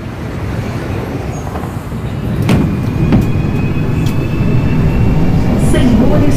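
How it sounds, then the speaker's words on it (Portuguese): A CPTM Line 9 Esmeralda Série 8500 train, running between Osasco and Ceasa in the HMMSIM2 game, rumbles steadily and grows louder partway through, with a few brief squeals and thin tonal whines over the running noise. "Stand by the doors and wait for people to exit before entering the train."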